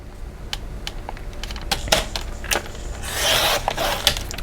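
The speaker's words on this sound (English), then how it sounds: "So I'm going to just go ahead and cut this in half." Tea-stained paper gets cut in half for planner panels, giving close crisp snips and rustling paper handling, with a longer scraping slice toward the end.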